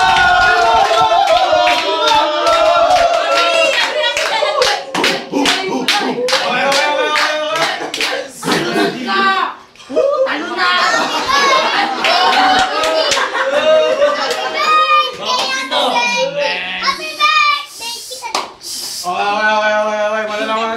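A studio audience bursts into loud, sustained applause to vote for a contestant in a game show round, clapping mixed with cheering, chatter and laughter while hosts talk over it.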